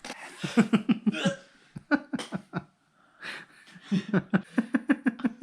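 A person hiccups in a quick, uneven series of short, close vocal jolts, with a brief pause midway before another run of hiccup bursts follows.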